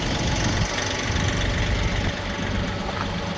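A Uniforce 45M tractor engine idles close by at a small-scale logging site, a steady low rumble holding even throughout with no talk over it.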